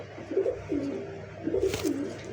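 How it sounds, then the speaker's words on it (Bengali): A caged pigeon coos in close, repeated low phrases, roughly four soft rolling calls in quick succession with no talking. "ডাকতো যাই হোক প্রচুর পরিমাণ ডাকে কবুতরটা"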